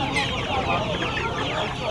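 Golden chickens cluck steadily at a busy hen market in Uluberia, close, overlapping clucks filling the whole moment with no pause.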